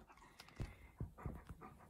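A dog pants quietly and close by, with four or five quick breaths in an uneven rhythm over faint room noise.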